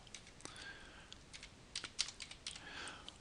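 Soft, scattered keystrokes on a computer keyboard as a number or date is typed into a form, quiet and close with irregular clicks over a few seconds.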